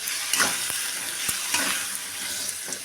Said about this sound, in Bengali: এবার আমি নাড়তে থাকবো ভালো করে